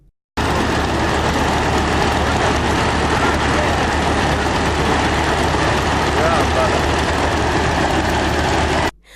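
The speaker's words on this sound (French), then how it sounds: "Le vol KHKR 45AR, hélice battante, ronronne ici à la Patte d'Oie dans l'arrondissement 12 de Ouagadougou." Homemade propeller aircraft engine idling on the ground at Patte d'Oie in Ouagadougou before takeoff, a loud, steady droning rumble that starts abruptly and runs unbroken until it cuts off at the end, with a voice talking over it.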